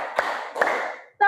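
Two separate hand claps ring out close and crisp, each with a short reverberant tail, followed by a brief voice.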